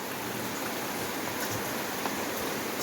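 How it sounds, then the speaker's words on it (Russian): Heavy downpour with water beginning to run off, a steady dense hiss of rain and flowing water, even and continuous with no talk. "О, все, пошла вода."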